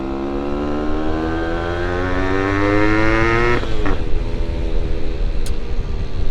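A two-stroke Yamaha RX motorcycle is ridden, its engine note rising steadily under acceleration, then dropping into a rougher, burbling tone after a gear change; loud, close and without talk.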